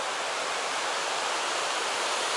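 Mountain river rushes through a gorge in the Chechen mountains, a loud, constant broadband roar of flowing water with no breaks and no voices.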